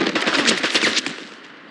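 Rapid automatic gunfire from the James Bond 007: Blood Stone video game, a loud, dense burst of quick shots lasting about a second before trailing off into a short echoing decay.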